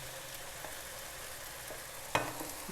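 Chicken kebabs go into a pan of biryani, giving a faint, steady frying sizzle with one sharp clink or clatter near the end.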